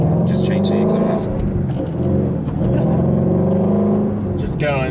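Ford Mustang Shelby GT350 (2017) exhaust while driving slowly on a park road, a steady low engine drone with a few rising throttle swells, loud and close, under talk.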